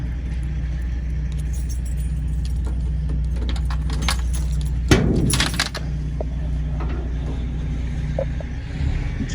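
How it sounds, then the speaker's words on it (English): A bunch of keys jingles and clinks near the back of a 1967 Chevrolet Chevelle while the right car key is sought. A low steady hum runs underneath, and a sharp burst of jangling comes midway. "So let me try and figure out which key this is."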